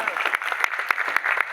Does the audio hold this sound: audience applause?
yes